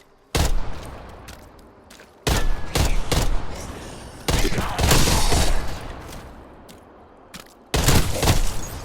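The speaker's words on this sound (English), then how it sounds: "This gun that I'm using right now is the tactical rifle." Tactical rifle gunfire in Call of Duty Black Ops Cold War, with four loud, close bursts of rapid shots separated by short gaps of quieter background game ambience.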